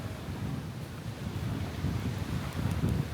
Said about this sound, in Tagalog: Kasi masyadong mahangin dito.